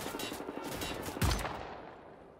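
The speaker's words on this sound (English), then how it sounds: "From the marksman rifle specifically is what I was talking about, actually." Marksman rifle fire in Wolfenstein: The New Order, a burst of rapid shots followed by a single heavier boom that trails off into fading reverberation.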